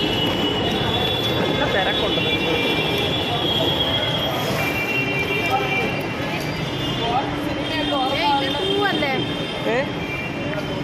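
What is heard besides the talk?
metro train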